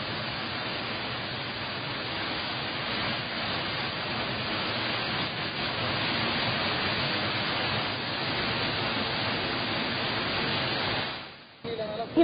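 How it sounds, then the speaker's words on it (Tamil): Flooded main waterfall at Courtallam after monsoon drizzle, a steady broad rushing roar of heavy falling water that holds constant for about eleven seconds before dropping away briefly. "மெயின் அருவி, 5 அருவிகளில் வெள்ளப்பெருக்கு காணப்பட்டது"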